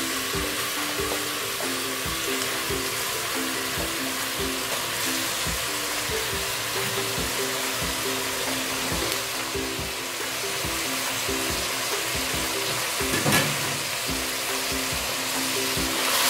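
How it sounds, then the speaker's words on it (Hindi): Mutton hits a hot pan and sizzles loudly and continuously while it fries, with faint scraping and stirring clicks running through the steady hiss. "अब मैं इसमें मटन ऐड करूँगी"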